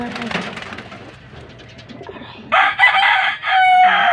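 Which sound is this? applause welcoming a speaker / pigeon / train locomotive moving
pigeon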